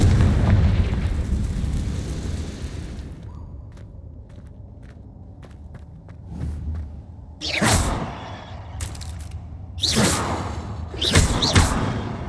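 Confringo fire-blast spell explosions in the game Hogwarts Legacy, several loud booming bursts with crackling debris, separated by quieter gaps and thuddy impacts, no talk.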